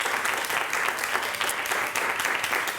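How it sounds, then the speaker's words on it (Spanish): Applause for children at a karate club event, a steady, full burst of clapping from a gathered audience in a hall, even and moderately loud throughout with no voices above it. "Un aplauso para los chicos y las chicas."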